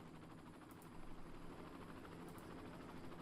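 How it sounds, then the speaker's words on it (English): A police helicopter in a city-building video game produces a faint, steady rotor drone that swells slightly partway through and stays low and even throughout. "the police helicopter is returning to depot there"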